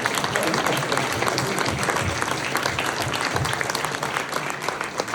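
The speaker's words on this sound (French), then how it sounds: "Allez, on les applaudit." Audience applause at a French town public meeting, a dense and even burst of clapping from the room that runs throughout at a steady level.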